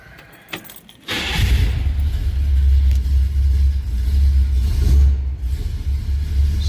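Key jangle, then a 1967 Chevrolet Chevelle V8 cranks and fires, settling into a loud, deep, steady idle rumble close by with a slight rev near the end, no talking.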